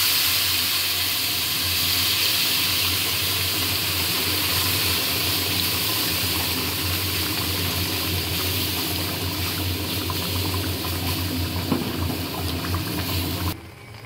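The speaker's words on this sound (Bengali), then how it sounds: "এবারে গরম জল দিচ্ছি।" Hot water poured into a pot of fish-head rice curry makes a steady, loud rushing pour with bubbling and hissing that continues almost unbroken before stopping abruptly at the end.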